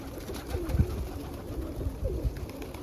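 Pigeons at a loft during morning corn feeding give low, throaty coos in repeated bursts, close and moderately loud, with soft rustling between calls.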